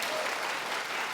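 A church congregation breaks into dense, sustained applause, a steady wash of many hands clapping together, loud and close with no voices standing out.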